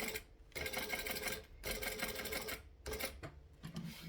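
Domestic sewing machine stitching a seam in several short bursts, each about a second long with brief pauses between, close by and fairly quiet, no talking.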